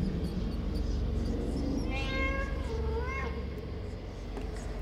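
A cat in the FNAF Into The Pit video game lets out two drawn-out meows close by, rising and falling over a steady, low background drone.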